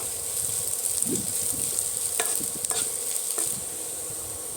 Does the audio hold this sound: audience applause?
no